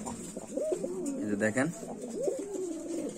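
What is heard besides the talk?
Lakkha pigeons cooing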